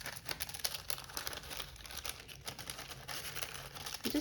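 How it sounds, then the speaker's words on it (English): Soft, close crinkling and rustling of a thin glassine paper bag, continuous with small crackly bursts, fairly quiet and without speech. "I just love the sound that the glassine paper bag makes."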